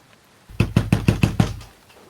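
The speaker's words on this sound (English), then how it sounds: "The banging was coming from the front door" Heavy banging knocks on a front door: six loud, evenly spaced thumps in quick succession, close and alone in an otherwise quiet space.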